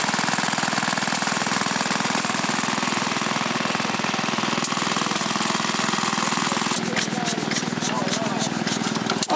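A 1920-built steam engine runs at the Stotfold steam fair, a constant dense mechanical chugging and rattling, loud and close, with outdoor crowd noise and quick clatter toward the end.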